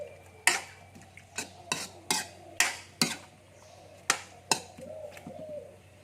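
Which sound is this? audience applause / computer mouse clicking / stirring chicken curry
stirring chicken curry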